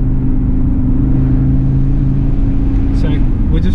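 A 2022 Audi RS Q3 Vorsprung engine holds a steady, loud low drone while driving through a neighbourhood, recorded from inside the cabin, with a faint brief change near the end.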